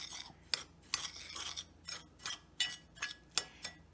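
Breadcrumbs and grated Parmesan cheese stirred together in a bowl, a series of quiet, brisk scraping strokes with light clinks of the utensil, roughly eight or nine close, rhythmic swishes.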